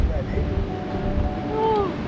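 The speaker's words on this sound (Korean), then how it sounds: "저쪽 파도 엄청 치는구나" Ocean waves crash against a breakwater in a steady washing roar, with wind buffeting the microphone and faint voices talking underneath.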